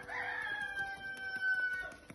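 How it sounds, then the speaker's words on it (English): A cockerel crows once in the background, a drawn-out, moderately loud call at a little distance, outdoors while soap is being felted. "I apologize for that roost, that cockerel in the back."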